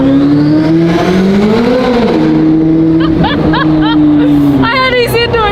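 A naturally aspirated flat-plane crank engine revs hard inside a tunnel, its loud screaming tone rising and falling in pitch with sharp gear-change blips echoing off the walls, while a person talks over it.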